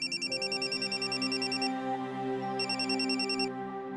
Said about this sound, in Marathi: तुमच्या फोनवर वॉर्डन मॅडमचा फोन आला.